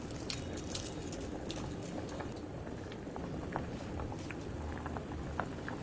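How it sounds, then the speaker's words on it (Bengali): Potatoes boiling together with eggs in a pot for egg chop, a steady close bubbling and rolling boil with scattered small pops and patter throughout, no voices. "ডিমের সাথে আলুগুলোকে সিদ্ধ করে নিব।"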